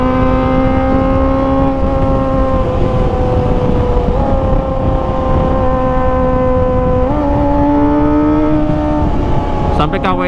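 A Kawasaki ZX25R motorcycle fitted with an Arrow Pro Race exhaust, its four-cylinder engine droning loud and steady, with pitch shifts as the revs change and a sharp burst of revving at the very end.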